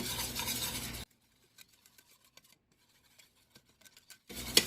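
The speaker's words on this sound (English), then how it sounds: "I'm gonna whisk it until like it's a light brown color." Whole wheat flour being whisked in a pan over medium heat for a Swedish meatball sauce, a short run of light, scattered scraping taps set between louder bursts of sizzle at the start and end.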